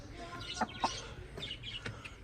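Faint clucking from a rooster at a mini zoo, a few short calls over a low background hum.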